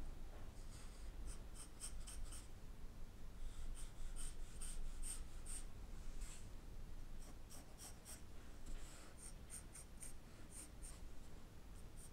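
A graphite pencil sketches a hair shape on paper for a face study, giving repeated scratchy strokes in quick bursts with short pauses between, close and quiet over faint room hiss.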